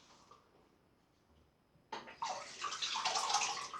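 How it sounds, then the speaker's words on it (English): Water splashes loudly as a face is rinsed during a wet shave with a 1963 Gillette Slim razor and tallow soap, starting abruptly after a quiet pause and continuing as steady close splashing and running water. "Now I'm going to just rinse my face properly."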